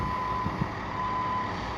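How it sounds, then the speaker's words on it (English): A building fire alarm, pulled on the fourth floor, sounds as a steady electronic tone held under a low background rumble, with no voices. "They're just running the alarm now"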